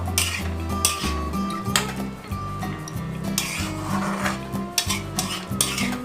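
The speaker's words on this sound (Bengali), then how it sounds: "তো সেটাকে দিয়ে আবার আমি এইভাবে ওটার সাথে মিশিয়ে দিচ্ছি যাতে নারকোলটাও এটার সাথে বেশ ভালো মতো মিশিয়ে রান্না হয়।" Grated coconut being stirred into an ash gourd curry in a pan: a spatula scrapes and clanks against the metal in a steady, repeated rhythm, close and fairly loud, with no talking.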